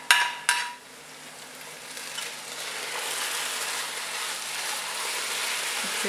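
A spoon stirring carrot halwa with ghee and dry fruits in a pan, two quick clinks at the start, then a steady soft sizzling scrape continuing quietly throughout.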